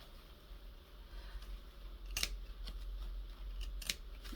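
Scissors snip through paper while trimming a junk journal page with a Dollar Tree placemat cover, a few quiet cuts close by, the sharpest bursts coming near the middle and toward the end.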